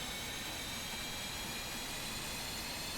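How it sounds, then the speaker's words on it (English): F-5E Tiger II jet engine spooling up in DCS World, a steady, dense turbine roar with a thin high whine running throughout, loud and unbroken over the few seconds. "You can probably hear the engine picking up, and you can see that the RPMs are growing here."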